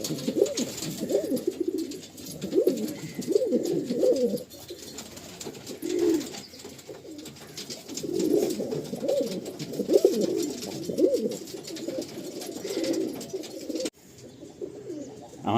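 Andhra pigeons in a loft in Kolkata coo continuously, several birds overlapping in low rolling phrases that swell and fade, close and fairly loud, with no talking.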